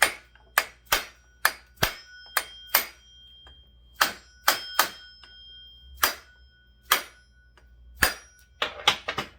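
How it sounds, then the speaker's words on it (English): Sharp metallic strikes of a brass hammer on a brass punch ring out one after another at an uneven pace, about a dozen hits with short gaps, fairly loud and close, with no talking. "Brass hammer and brass punch."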